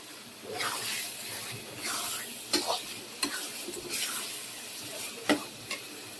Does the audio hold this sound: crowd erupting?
no